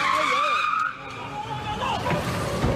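A white car accelerates and slams into a black car during a police traffic stop, with tire skidding and squealing, engine noise, and a loud impact, plus shouting voices around it.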